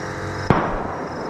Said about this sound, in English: Moments later, gunshots rang out from the woods surrounding the water.